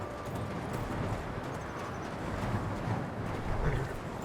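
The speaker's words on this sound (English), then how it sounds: "Get on your horse, girl." Horse hooves clip-clopping in Skyrim Special Edition, a continuous muffled patter of steps under a steady wash of wind, moderately faint and unbroken.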